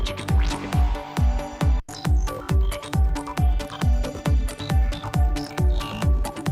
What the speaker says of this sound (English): These beats are really cool right here.